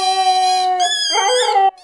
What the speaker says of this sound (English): A Husky's howl can be heard from over 10 miles away